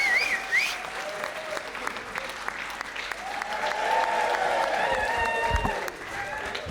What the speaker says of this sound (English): Start clapping. Start whooping. Start cheering.